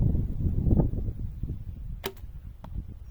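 A sharp thwack of an arrow striking a target, followed by a second fainter impact, over steady low wind rumble outdoors.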